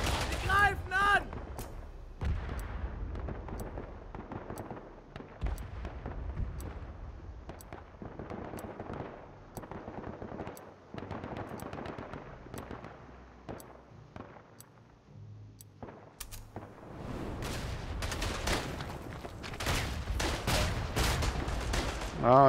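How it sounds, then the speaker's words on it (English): Artillery barrage in the WWI shooter Verdun on the Vosges front: dense volleys of booming impacts and sharp gunfire crack on and off throughout, swelling heavier toward the end, with voices talking over parts of it. "Oh, it was sector artillery."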